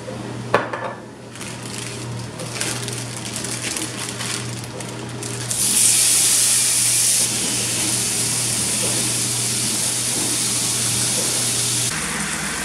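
Steak searing in olive oil in a hot pan, a steady broadband sizzle and hiss that swells louder partway through and holds, with a constant low hum of a kitchen appliance underneath and a few faint clinks.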